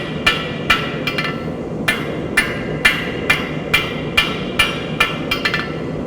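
Steel coat hook struck on an anvil to chamfer its corners: a close, loud series of about fifteen sharp metallic hammer blows in an uneven rhythm, with short gaps and quick double hits, with no voices.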